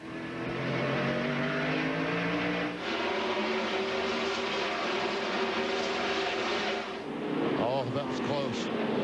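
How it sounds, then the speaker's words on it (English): Stock cars at the 2001 Old Dominion 500 backing off and nearly stopping through a corner, engines droning loud and steady with shifting pitch, a broadcaster talking over the roar throughout. "Here these cars back off, almost stop in the corner."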